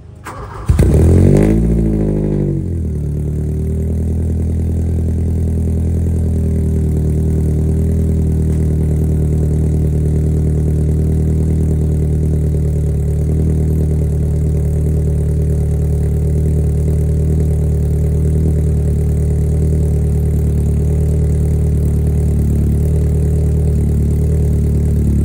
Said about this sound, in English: Your car is running, you're probably noticing that your car is idling pretty high.